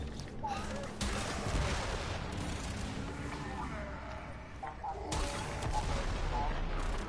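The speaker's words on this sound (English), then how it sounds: "the barrage of this weapon is really powerful" A weapon barrage in Warframe roars in a sustained, dense stream of loud firing, with a brief lull near the middle before the blasts resume.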